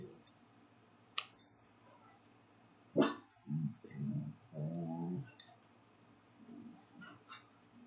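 Dogs barking indoors in a home: a sharp yelp, then a close run of short, throaty barks and whines in the middle, fading to softer yips near the end, with no talking.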